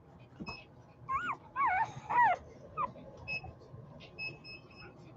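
Five-day-old golden retriever puppies let out a handful of thin, rising-and-falling squeals and whimpers, close but soft, over a faint background hum.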